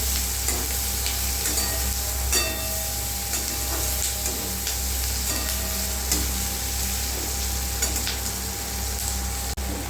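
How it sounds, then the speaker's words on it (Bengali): Chopped onion sautés in a hot pan for a homemade pizza topping, giving a steady, close sizzle with light stirring scrapes and taps throughout and no talking. "এখানে আমি এই পেঁয়াজটাকে একটু সটে করে নেব"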